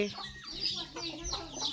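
Chickens cluck softly nearby at feeding time, a few short scattered clucks in quiet outdoor air, faint and brief with no talking.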